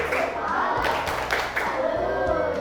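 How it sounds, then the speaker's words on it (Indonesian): A classroom of pupils claps together in a salute for a group, a steady patter of hands that runs the whole time at moderate loudness. "Kasih tepuk salut buat kelompok 3."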